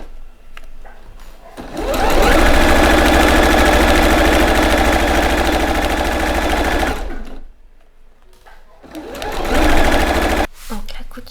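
Sewing machine stitching the seam of a fabric drawing pouch, whirring loudly and steadily in a long run, pausing briefly, then running again in a shorter burst before stopping.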